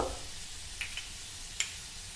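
Garlic and a pinch of asafoetida sautéing in hot oil, a soft steady sizzle with a few faint clicks of stirring, close and quiet.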